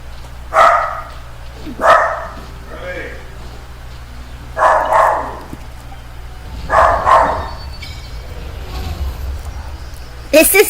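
Dog barking in short repeated bursts about every two seconds, fairly close and loud, with some yips, under a steady low hum and a person talking.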